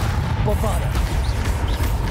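Bombarda and Confringo spells in the game Hogwarts Legacy fire off as deep, rumbling booming blasts that overlap in a dense low barrage, with a voice heard among them.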